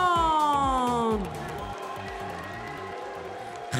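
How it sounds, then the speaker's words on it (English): Crowd at a kickboxing world title final applauding and cheering both fighters, loud and continuous, with a pitched siren-like tone fading early and a strong repeating thump underneath. "Give them a big applause,"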